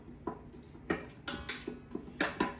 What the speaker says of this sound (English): Let me get a spoon so I can stir that up as it's starting to cook.